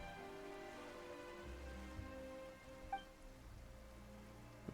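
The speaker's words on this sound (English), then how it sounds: "Why is it raining all of a sudden?" Steady rain begins in the game Genshin Impact, a soft even hiss of rainfall under faint low tones, with a few small taps standing out near the middle of the stretch.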